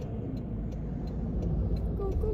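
Car traffic on a road in America heard from inside a vehicle, a steady low rumble of engines and tyres with faint ticking on top, continuous and fairly loud.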